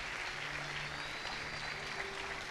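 Applause from a church congregation during an evening sermon, a steady, dense patter of many hands filling the room at a fairly low level, with no voices over it.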